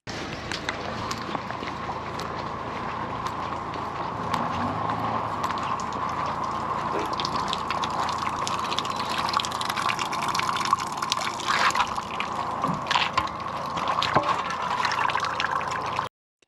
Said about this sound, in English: a lot of water comes down through this system on this side, so we just gotta wait for it to drop down